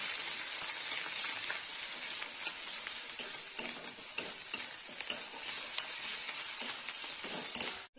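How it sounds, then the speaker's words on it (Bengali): Ginger garlic paste being fried and stirred in a pan, a steady bright sizzle with scraping from stirring running continuously throughout, close and moderately loud. "এখানে আমি 1 চামচ আদা রসুন বাটা দিয়ে দেবো। একটু ভালো করে কষে নেব।"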